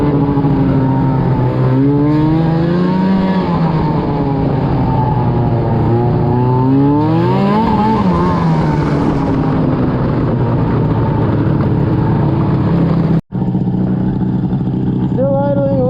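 An old, blown-up snowmobile engine runs loud and close, idling high with rising and falling revs throughout, briefly cutting out near the end before resuming, while people talk over it.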